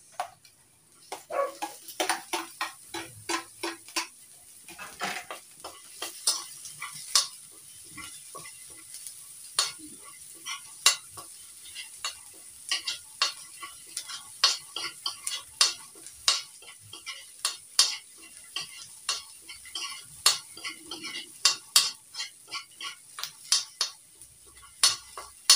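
Chopped onions sautéed in a pan for a ginisang sayote dish, with steady sizzling under repeated sharp scrapes and clacks of a utensil stirring against the pan throughout.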